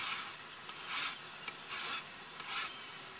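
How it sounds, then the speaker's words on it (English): Rasp filing a horse's hoof during trimming, with three rhythmic rasping strokes roughly a second apart, quiet and close, no talk. "When you rasp, okay, let the rasp do the work, see?"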